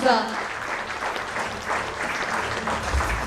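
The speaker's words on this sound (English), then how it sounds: "Let's give a huge round of applause." A round of applause from an audience at a function as a guest is invited up, steady and moderately loud for a few seconds with a voice over it.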